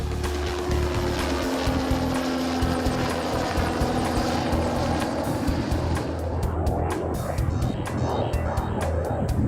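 A propeller aircraft drones loudly overhead on its final descent, a steady rotor-like throb with a dense engine roar sustained for the whole stretch and faint rhythmic chopping toward the end.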